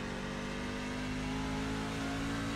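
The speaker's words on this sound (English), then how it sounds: "I have to rev match to get it to shift" A NASCAR truck in iRacing at Sonoma revs steadily through a gear shift, a continuous loud engine drone with a sustained hum and no pauses.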